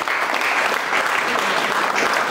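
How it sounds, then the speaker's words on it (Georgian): Dense applause for the fighters fills a press conference hall for the whole moment, a loud, even roar of many hands clapping close by. "კიდევ ერთხელ აპლოდისმენტები მებრძოლებს"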